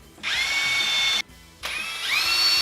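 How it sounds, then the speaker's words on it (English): A power drill with a bit bores pilot holes into pieces of wood in two close, loud bursts of whining motor about a second each, separated by a brief pause. "I measured the depth that I want to go to with the drill bit"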